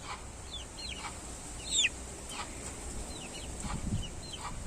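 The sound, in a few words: hen clucking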